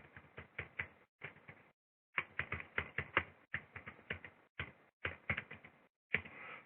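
Typing on a computer keyboard while editing a Google document: quiet, close bursts of quick key clicks separated by short pauses, with no voices.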